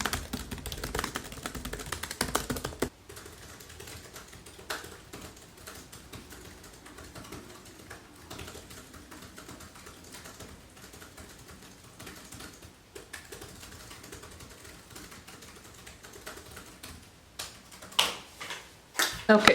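Steady typing on a computer keyboard during a long writing session, a quiet, continuous patter of key clicks with denser, louder bursts at the start and near the end.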